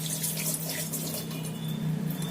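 Tap water runs steadily into a sink as soap suds are rinsed off dishes, a close, continuous splashing rush with no pauses and no talking.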